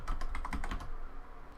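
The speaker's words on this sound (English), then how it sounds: "you're going to want to type into the command prompt" A computer keyboard being typed on while a network command is entered at the Windows command prompt, a quick burst of close clicks over about a second, then fading to quiet room tone.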